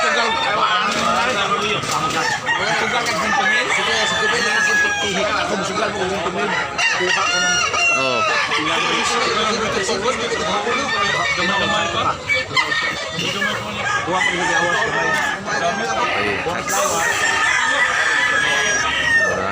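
Roosters at a gamefowl farm crow repeatedly and cluck over a constant din of many birds, close and loud, while men chat nearby.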